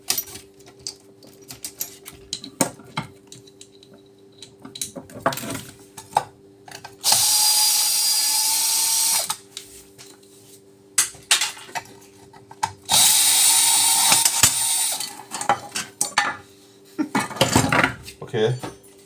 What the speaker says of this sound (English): I think I'm going to use the drill.